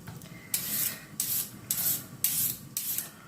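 Potato being cut into thin strips with a hand tool, a series of about six close, rasping swipes in a fairly even rhythm, each a short scraping rush with no talking.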